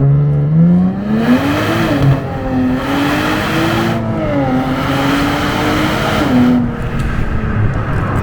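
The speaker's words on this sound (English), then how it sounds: "Using this D mode switch, we're gonna go over to sport mode, and let's floor it in first gear." A Nissan Z in sport mode accelerates hard in first gear, its loud engine note rising and wavering as the revs climb and the tires squirm for grip, sustained throughout.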